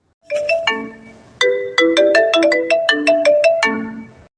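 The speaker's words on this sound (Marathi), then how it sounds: "कोणाचा फोन आला बाबा" A melodic phone ringtone plays loud and close in a home setting, a run of bright chiming notes in a repeating tune that starts, pauses briefly, then resumes for several more phrases.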